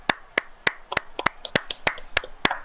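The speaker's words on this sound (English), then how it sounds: "Firstly, give him a clap." Sharp, close hand claps in a steady, fairly quick rhythm, about a dozen in a row, with a few lighter claps mixed in.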